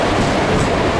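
A train engine idles at a quiet station in southern India, a steady loud broadband rumble and hiss filling the moment without break.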